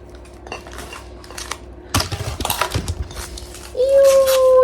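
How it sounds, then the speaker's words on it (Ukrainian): Ceramic plates clink and clatter as they are unpacked from their packaging, with rustling wrap and sharp knocks, and a brief squeaky sound near the end. "О, це тарілочки."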